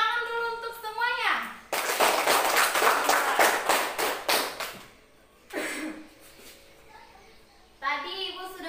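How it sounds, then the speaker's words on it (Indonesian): A school class of children clapping hands together in a burst of rapid, loud claps lasting a few seconds, with a teacher and children talking before and after the clapping. "Beri tepuk tangan dulu untuk semuanya."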